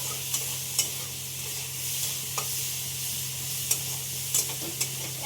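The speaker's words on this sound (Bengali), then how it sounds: "এখন হালকা করে মাছটাকে আমি ভেজে নিচ্ছি।" Fish shallow-frying in a small amount of oil, giving a steady soft sizzle with a low hum underneath and occasional light clicks and scrapes from stirring.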